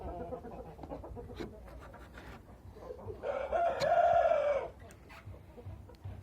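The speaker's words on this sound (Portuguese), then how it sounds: "Os franguinhos fio do galo aí." A rooster crows once at moderate distance inside a pen holding young chickens, with low clucking and farmyard noise before and after the crow.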